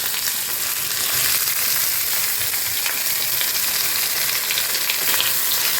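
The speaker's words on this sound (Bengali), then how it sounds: "দিয়ে একটু পনিরগুলোকে ভেজে নেব।" Paneer frying in a little ghee over low-medium heat gives a close, continuous bright sizzle that stays even and steady throughout, with no voices.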